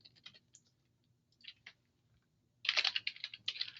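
A computer keyboard clicks softly as a username and password are typed, a few scattered keystrokes followed by a quicker run of taps near the end.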